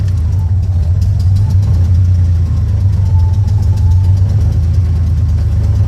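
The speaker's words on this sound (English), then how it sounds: "I'm giving it gas" A manual stick-shift car engine runs steadily near and loud, a low throbbing hum with slight rises as gas is applied, no clear sharp revving peaks and no talk over it.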